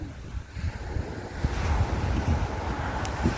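Sea surf rolling onto the Tyrrhenian Sea shore in Italy in September, a steady wash of waves mixed with gusty wind buffeting the microphone, moderately loud and continuous with no talking.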